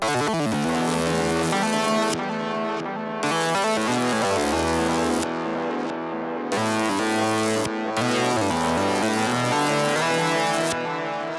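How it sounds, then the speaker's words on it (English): A wild, improvised synth lead plays over a dense electronic backing, bright and continuous with brief dropouts in the high end. "I just complete the sample with a crazy lead"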